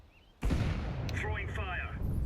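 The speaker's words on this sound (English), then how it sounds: "Throwing a grenade." A grenade goes off in Counter-Strike 2, a sudden loud blast with a long rumbling tail, while a voice speaks over it during competitive play.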